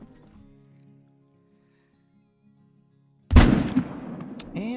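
A single sharp air rifle shot cracks loudly during a fallow deer hunt at Spring Creek Manor, following near silence, then rings out with a decaying echo across open ground.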